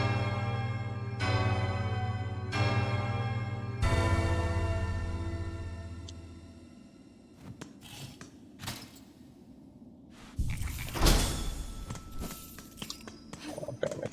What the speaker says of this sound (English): That's the only bell I can't skip.